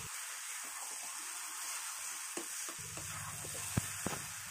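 Carrot filling with raisins and chopped cashews stirred in a pan, a faint steady hiss of gentle frying with a few soft scrapes and taps of a spoon near the end, no talking.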